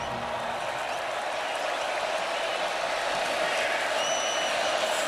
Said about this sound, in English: you can hear the crowd here at DKR bubbling up in support of their defense